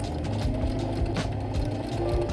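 A sewing machine stitching elastic along the neckline of a puff-sleeve day dress: a soft, rapid, rhythmic mechanical chatter, close and fairly quiet, with no talk.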